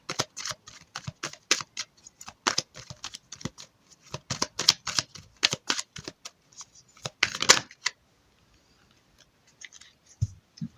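Oracle cards being shuffled in rapid riffling bursts, crisp papery flutters repeating for about eight seconds and then stopping, followed by near silence with a faint low thump at the end.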